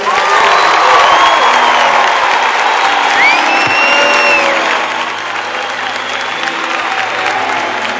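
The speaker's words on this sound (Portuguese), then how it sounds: "Pode aplaudir o Senhor." Church congregation at a Catholic Mass applauding and cheering loudly: dense, sustained clapping with whoops and raised voices, and a rising vocal cry through the middle before the crowd noise eases slightly toward the end.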